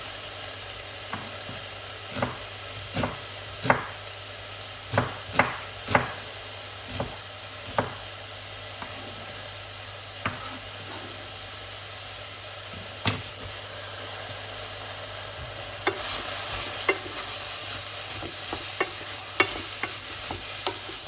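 Onions being stirred in a frying pan in a home kitchen, with a steady low sizzle and a series of sharp spoon scrapes and knocks at irregular intervals, the frying growing louder and busier toward the end; no talking.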